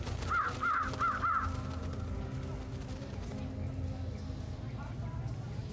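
Raven caws in the video game Trüberbrook, a quick run of about four harsh calls near the start over a steady game ambience, then fading into the background hum.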